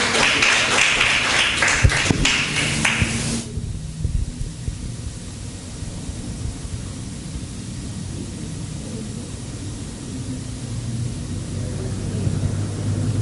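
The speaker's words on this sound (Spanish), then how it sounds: "Denle un aplauso al Señor con alegría" A church congregation at a Spanish-language Bible teaching service breaks into lively applause with sharp individual claps for about three seconds, then it cuts off abruptly, leaving only a faint, hissing room hum.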